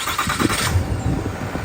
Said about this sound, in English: you're going to hit this button here and then you're able to remote start it.